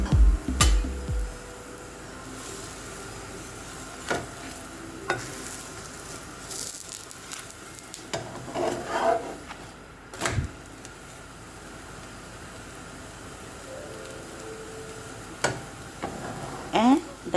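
Food frying in ghee in a pan, with extra ghee sprinkled on top to crisp it: a steady close sizzle runs throughout, broken by scattered stirring and scraping clatters and a few sharp knocks.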